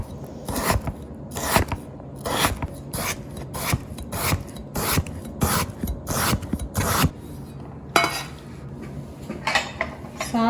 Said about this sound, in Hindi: अब आपने आलूओं को किसी भी शेप में काट लें